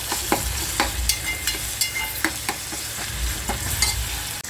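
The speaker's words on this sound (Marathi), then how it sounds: "इकडे हे भाजत आहे" Ingredients for khichdi, including tomato, roasting in a pan with a steady sizzle, broken by repeated scraping clicks of a spoon stirring close up, with no talking.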